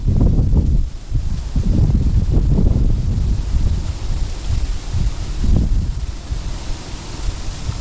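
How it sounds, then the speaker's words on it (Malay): Wind gusts buffet the microphone outdoors during a freshwater fishing trip in windy weather, a steady low rumble with louder surges and rustling throughout. "angin."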